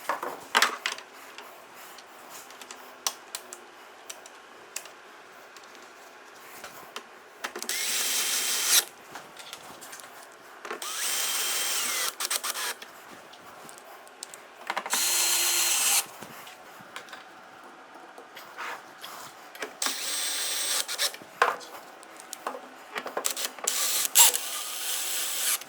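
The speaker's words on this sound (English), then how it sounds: "Now it's time to screw the housing back onto the base" A power drill drives screws to fasten a Dri-Eaz Revolution LGR dehumidifier housing back onto its base, several short whirring bursts separated by pauses and small handling clicks.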